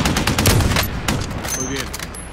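Dense video game gunfire rattles up close, rapid overlapping shots and automatic bursts that stay loud across the whole moment, with a voice briefly heard among the shooting.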